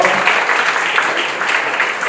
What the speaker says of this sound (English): Please clap for them for a wonderful job.